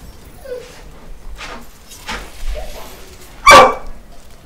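Dog in the Diablo 3: Reaper of Souls game, barking once loudly and near near the end after a few quieter yips and game sounds.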